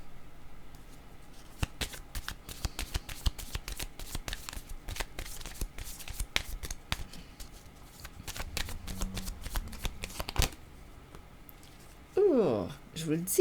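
Tarot cards being shuffled and handled, a run of crisp rapid riffling clicks and slaps close by over about ten seconds, ending with a brief louder rustle near the end.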